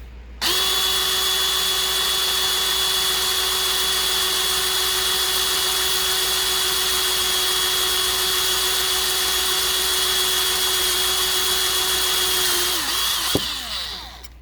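A power drill bores a hole steadily for about thirteen seconds, its whine holding an even pitch, loud and close, before it cuts off near the end.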